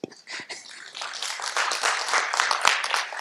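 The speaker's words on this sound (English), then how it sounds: "You deserve still bigger applause." Audience at a charity organisation's first annual event clapping together, a dense steady burst of hands that swells slightly and holds, fairly close and loud with no talking over it.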